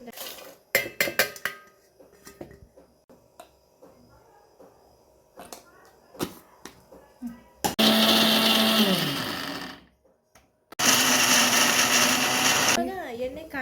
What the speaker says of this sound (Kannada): ಮಿಕ್ಸಿ ಮಾಡುವ ಈಗ